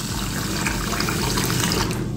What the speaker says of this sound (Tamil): இப்போ இதில் தண்ணி ஊற்றி ஊற வச்சிடலாம்